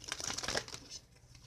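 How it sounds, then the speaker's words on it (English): Oracle cards shuffle close up in a quick burst of crisp riffling and flapping that tapers off after about a second. "I just love how these cards shuffle."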